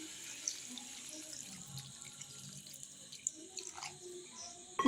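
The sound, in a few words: water being poured into a cooking pot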